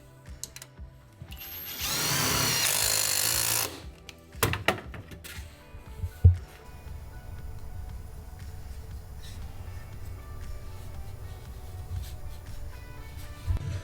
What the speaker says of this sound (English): I'm going to add a screw since the last fastener is more than 6 inches away from my cut end.